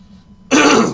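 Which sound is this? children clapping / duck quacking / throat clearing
throat clearing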